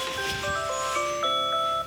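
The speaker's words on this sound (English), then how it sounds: "your phone's going off" A phone timer alarm rings in a room, a steady run of bright tonal chime notes stepping up and down in a repeating melodic pattern, moderately loud and continuous.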